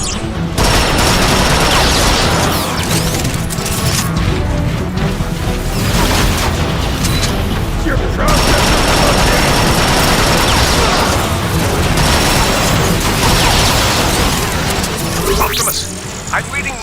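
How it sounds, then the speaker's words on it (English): Loud, dense barrage of explosions and booming blasts from an artillery strike in the video game Transformers: Fall of Cybertron, roaring almost continuously with a brief dip midway, crashing debris and gunfire mixed in. "Optimus, how about calling in an artillery strike?"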